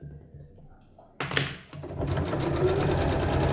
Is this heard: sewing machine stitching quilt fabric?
yes